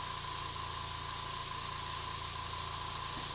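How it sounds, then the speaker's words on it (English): Steady airbrush hiss while wheel detail is sprayed on a rendering of a 1956 Chevy, continuous and close with a faint tonal whine, no talking. "go ahead and do a little bit of the wheel detail with the airbrush"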